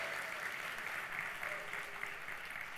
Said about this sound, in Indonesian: Tetap berikan aplaus untuk mereka semuanya.